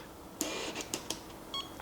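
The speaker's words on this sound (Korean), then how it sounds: "반셔터 눌렀을 때 초점이 맞았을 때 이렇게 삑 소리가 나게 해주는 거죠" Phase One XF medium-format camera body giving short electronic focus-confirmation beeps at half-press in a quiet studio, several brief bright chirps spaced apart with a slightly longer tone near the end.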